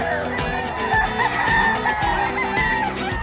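Straight-comb gamefowl roosters at a Bocaue poultry market crow loudly and close up, with clucking from other birds in between.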